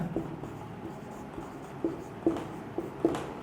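Chalk or marker writing a word on a classroom board, with faint scratchy strokes and a few soft taps close by, no voice.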